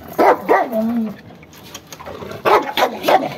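A loose dog that has reportedly bitten four people barks in a few sharp bursts at mid distance, with excited voices talking over and between the barks.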